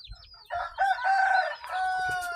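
A rooster crows loudly and close by, one long drawn-out call with a short cluck before it and a second sustained crow right after.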